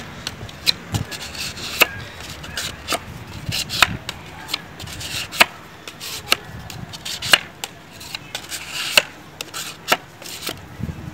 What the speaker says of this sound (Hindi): तो पुटीन को सही तरीके से मिक्स करें